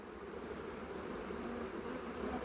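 Honeybees from a colony checked after formic acid treatment buzz thickly around a hive frame crowded with bees, a dense, steady, agitated hum close up and fairly quiet, with no talk.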